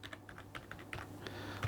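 Typing on a computer keyboard, a quick run of light, close key clicks at an irregular pace with no voice over it.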